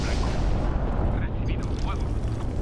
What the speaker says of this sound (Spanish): ¡Explosiones everywhere!